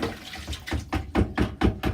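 Rhythmic sloshing as laundry is worked in water with a hand agitator to rinse out soap, about six regular splashing strokes that grow stronger, close and clear.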